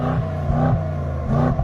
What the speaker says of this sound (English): Come and listen to the exhaust of this car.